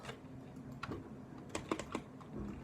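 Someone types on a PC keyboard in quick, uneven bursts of clicks, fairly faint over a low background hum, with no talking.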